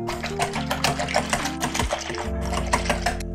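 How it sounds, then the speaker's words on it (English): A whisk beating two eggs and a cup of milk in a bowl for chicken strips, a fast steady rattling clatter that runs close and continuous throughout. "we're going to give this a whisk"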